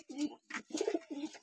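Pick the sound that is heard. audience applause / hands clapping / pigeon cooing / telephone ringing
pigeon cooing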